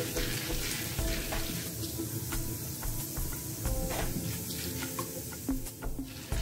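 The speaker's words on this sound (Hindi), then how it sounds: "इसे हमें अच्छे से फ्राई करना है" A quieter, even sizzle of something frying in a pan until golden brown for masala idli, with occasional faint clicks and stirring scrapes, heard without any voices.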